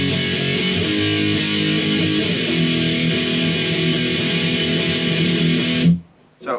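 Heavily distorted electric guitar plays a chorus in a dense, continuous wall of chords, then cuts off abruptly near the end, leaving a brief noisy tail.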